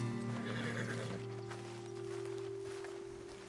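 Horses in the Red Dead Redemption video game whinny and neigh near the start, followed by soft clip-clopping hooves and rustling, fairly quiet overall with a steady low hum beneath.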